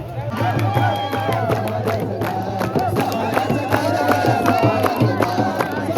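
A large crowd at Chaityabhoomi memorial gathering fills the space with a dense, continuous murmur of many voices, a low steady hum underneath and occasional louder shouts.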